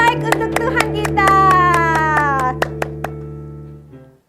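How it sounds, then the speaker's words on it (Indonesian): Sunday school children clap for God during a worship service, a series of sharp, fairly regular claps over sustained music and singing that fades out near the end. "Kasih tepuk tangan yang terbaik untuk Tuhan kita"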